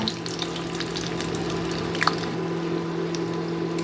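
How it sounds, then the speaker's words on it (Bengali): Palm pitha, Bengali palm fruit fritters, fry in hot oil over medium to low flame with a steady, even sizzle and occasional faint pops, close by and without voices. "এখন আমি এগুলাকে হাই মিডিয়াম টু লো ফ্লেমে রেখে সুন্দর করে লাল লাল করে ভেজে নেব"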